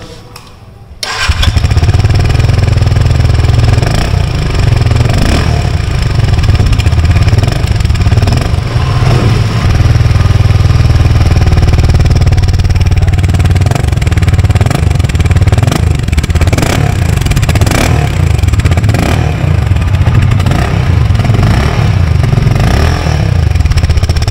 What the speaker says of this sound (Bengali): আপনারা অনেকক্ষণ থেকে এক্সাইটেড হয়ে আছেন এক্সস্ট সাউন্ড শোনার জন্য, এক্সস্ট সাউন্ডটা একটু শুনিয়ে দিই ভালোভাবে